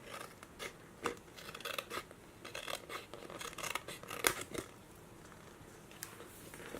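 Scissors snip repeatedly through a paper file folder, trimming off a small ridge: a run of close, crisp cuts with light rustling of the card in between, steady and moderately quiet with no talking.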